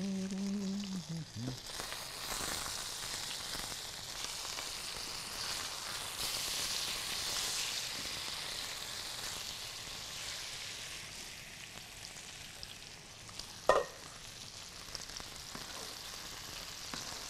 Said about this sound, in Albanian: Skuqet pula dhe do jemi në bango prov.